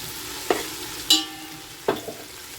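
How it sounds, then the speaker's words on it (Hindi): Ginger garlic paste fries in a pan with a soft steady sizzle, broken by three sharp scraping stir strokes spaced across the short stretch; no one speaks. "2 चम्मच हम अदरक लहसुन का पेस्ट डाल देंगे, 2 टीस्पून भर भर के। थोड़ी देर भून लेंगे"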